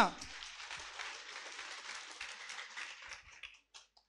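Audience applause for an MC at a stage event: steady, dense clapping that holds for about three seconds, then thins out and tapers into a few scattered claps.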